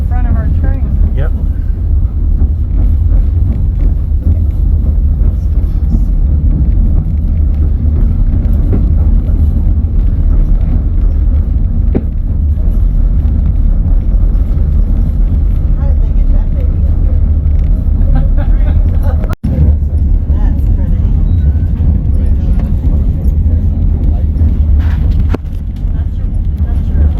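The White Pass scenic train rolls along a mountain route past tunnels and a steel bridge, a constant heavy rumble and roar heard from aboard that stays loud and unbroken for the whole stretch, with a brief dip partway and faint voices underneath.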